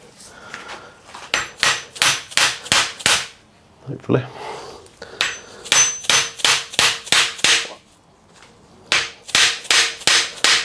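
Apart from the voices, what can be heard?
hammering star nut into suspension fork steerer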